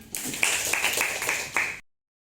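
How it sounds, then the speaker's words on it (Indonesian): A classroom of students clap together at a physics peer-teaching lesson, giving a short burst of a few distinct, fairly faint hand claps that lasts under two seconds and then stops. "Tepuk tangan dulu untuk kita semua."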